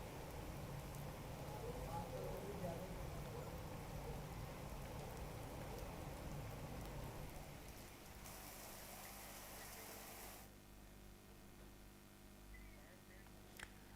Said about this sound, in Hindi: वहीं काशीपुर में बीती रात से रुक रुक कर हो रही है बारिश।